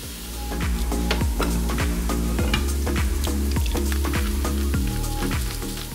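Diced onion sautéing in hot oil in a pan with salt added, a steady loud sizzle and frying crackle with repeated clinks and scrapes of stirring running throughout.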